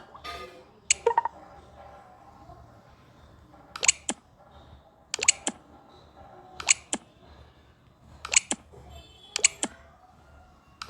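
Computer mouse clicks and keyboard taps at a desk, sharp isolated clicks in small pairs and clusters every second or so, close and fairly quiet over a faint room hum.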